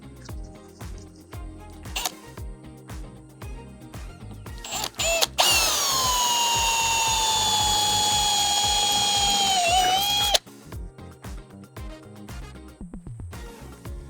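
A power drill whirs loudly and steadily for several seconds drilling holes in a vehicle roof for a roof rack, its pitch dipping as it bites, with clicks and handling noise before and after.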